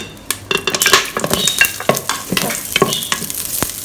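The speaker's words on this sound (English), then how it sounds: "Fry them until fragrant." Sliced young ginger, lightly pounded garlic cloves and spring onion stalks sizzle steadily in a hot pan, with repeated scraping and stirring clatters from a utensil against the pan close by.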